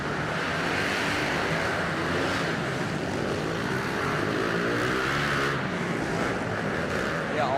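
Honda motorcycles, with one Kawasaki KLX 110L among them, race around an indoor track in a dense, steady roar of overlapping engines that persists throughout with no pauses.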